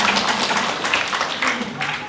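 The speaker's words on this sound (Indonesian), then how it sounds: "Tepuk tangan untuk Tuhan." A church congregation claps together, a dense and loud wash of applause with voices mixed in underneath, sustained for a couple of seconds.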